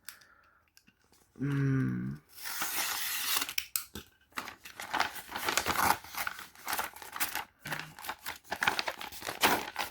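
A large mail envelope being torn and opened, with crinkling paper, sharp rips and scattered rustling clicks up close, separated by brief pauses.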